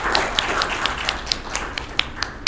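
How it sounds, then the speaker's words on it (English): Audience applause after a student's piano performance at a masterclass, a small group clapping steadily for a couple of seconds with sharp individual claps standing out near the microphone. "Let's give her a round of applause"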